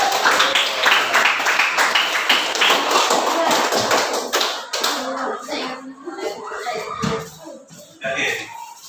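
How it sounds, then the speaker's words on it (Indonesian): Classmates in a classroom break into loud, fast clapping for several seconds before it thins into scattered claps, with children's voices chattering underneath as the applause dies down. "Kalau begitu kita beri aplaus dulu dengan kawanmu."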